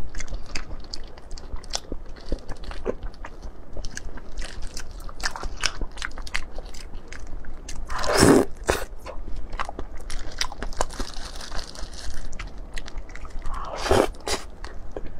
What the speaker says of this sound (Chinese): 今天给大家吃个千层蛋糕。 这是巧克力口味的。